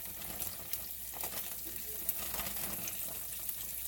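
Breaded pork chops pan frying in oil, a steady close sizzle with scattered pops and light crackles, along with faint clinks of cookware; no one talks.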